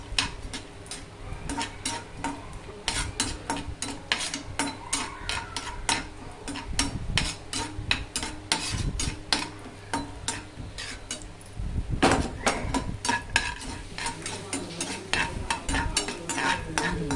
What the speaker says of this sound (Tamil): எண்ணெய் காயிட்டு கொஞ்சம் நெய் காயிட்டும் ஒரு முந்திரி போடுறேன்